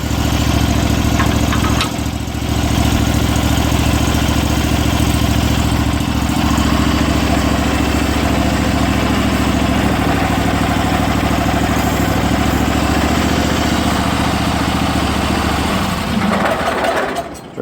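A John Deere 420 tractor engine idles loudly and steadily with a low rumble throughout, then cuts out abruptly near the end.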